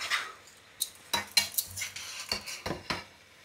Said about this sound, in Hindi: अब मैं डाल दूंगी नूडल, और मिक्स करूंगी, और हल्के हाथों से मिक्स करूंगी।